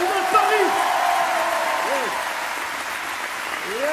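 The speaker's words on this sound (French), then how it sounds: "Applaudissez tous en même temps pour voir si ça va donner." A comedy show audience claps all together, producing a loud burst of applause that gradually eases, while a performer's voice carries over it with rising and falling tones.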